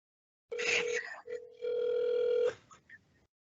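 A call line rings through a phone handset with a steady tone broken into bursts, a short pause between them, then a faint beep and brief noise as it trails off.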